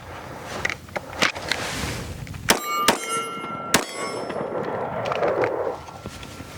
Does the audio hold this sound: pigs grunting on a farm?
no